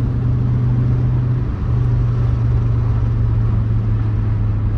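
A 2006 BMW M5 E60 engine drones loudly and steadily under acceleration, its tone briefly dipping as if shifting gears before pulling on again.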